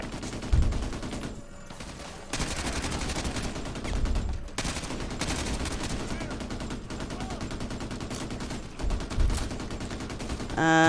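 Heavy gunfire rattles without a break in a Call of Duty Modern Warfare 2 Remastered battle, with dense automatic bursts and sharper shots rising above the constant loud barrage.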